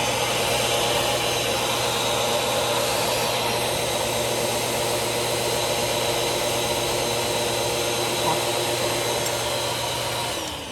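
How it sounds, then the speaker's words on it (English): A vacuum cleaner runs steadily with a constant motor whine and airflow roar and a low steady hum, close and unbroken for several seconds before shutting off in a workshop where a diesel heater is being fitted. "A vacuum."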